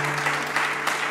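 Brief burst of audience clapping at a live music session for a duo, a dense wash of applause under a steady low hum.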